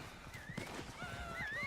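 Horse in Red Dead Redemption II, a close whinny with rising and falling cries over a steady run of hoofbeats clip-clopping on the ground, with no talk.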